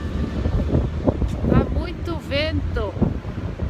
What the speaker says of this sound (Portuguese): Vento.